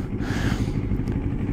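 A 2025 Moto Morini Calibro Bagger with a 700cc engine runs steadily close by, a dense low rumble holding even throughout with no talk over it.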